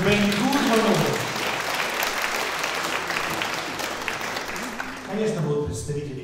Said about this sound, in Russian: Ну, где же ваши аплодисменты?